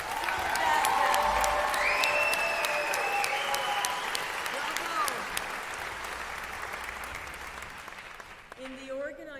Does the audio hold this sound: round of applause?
yes